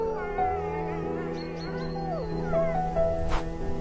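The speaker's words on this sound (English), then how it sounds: "Howls stitch the woods and ridges together." Wolves howling in snowy winter woods, several long wavering howls and yips overlapping into a close chorus with whimpering tones, steady and fairly loud throughout.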